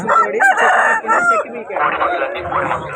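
A loud fighting-rooster crow rings out nearby at a rooster market in Vijayawada, overlapping with people talking and other clucking fowl in the background.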